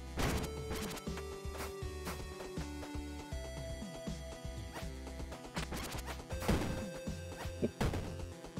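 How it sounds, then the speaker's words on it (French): Gems blowing apart in the video game Batboy: a run of sharp, punchy crashes and thwacks bursting out at irregular intervals over steady tonal game music, with a cluster of louder blasts near the end. "Ah mais ça explose?"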